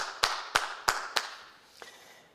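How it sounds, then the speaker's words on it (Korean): Handclaps during a Sunday church worship service: four crisp, evenly spaced claps ring out close by, followed by one fainter clap after a short pause, with a quiet room around them. "우리 하나님께 감사의 박수 돌리겠습니다"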